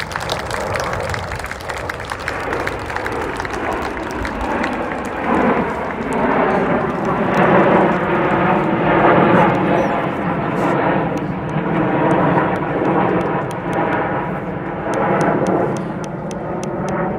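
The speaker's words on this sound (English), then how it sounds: "this is Spitfire." A Supermarine Spitfire flies over at an airshow, its engine a broad roaring swell that builds through the middle and lingers, heard under an announcer's voice and crowd noise.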